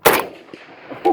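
A single loud, sharp rifle shot from an Arsenal AK-47 is fired at a steel groundhog target, with a short fading tail and a faint metallic ping from the target.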